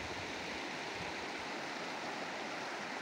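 Bamiyan River running steadily at low seasonal water, a continuous broadband rush and babble of flowing water with no voices over it.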